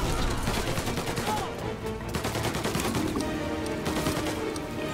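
Shooter combat in the Mafia video game, with dense, continuous gunfire and bursts of a grenade fight filling the scene at steady high loudness, no pauses between volleys.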